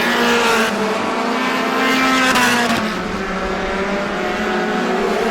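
Race cars in a NEMA Lite feature at Star Speedway, New England short track, roar past continuously with loud engine drone and shifting pitch as the pack passes, no voices.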